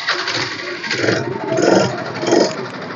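A 2010 model scooter engine self-starts and idles close by with a steady buzzing drone, rising slightly in strength a couple of times.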